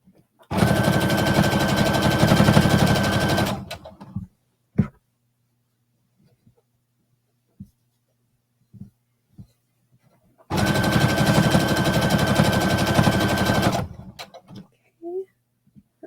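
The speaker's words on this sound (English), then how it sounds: "done top stitching this hood" A sewing machine runs in two long continuous bursts of rapid stitching while top stitching a hood, each about three seconds, separated by quiet pauses with faint clicks and handling taps.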